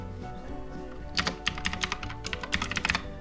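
Typing on a computer keyboard to search a control panel starts after a quiet second, then runs as a quick, close burst of crisp key clicks in irregular clusters, with no voice.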